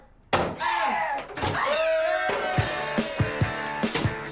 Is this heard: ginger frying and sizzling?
no